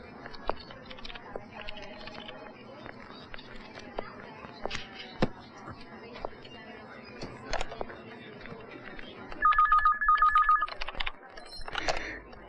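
A telephone rings in an office, giving a short electronic trill that rises clearly above a busy background of low chatter and shuffling, with faint ringing tones earlier.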